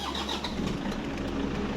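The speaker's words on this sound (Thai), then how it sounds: "เดี๋ยวจะสตาร์ทเครื่องนะให้ลูกค้าได้ฟังเสียงเครื่องยนต์กันนะครับ" A 2003 Toyota Tiger D4D common-rail diesel pickup engine cranks and catches, settling into a steady low rumble that stays loud and close for the whole two seconds.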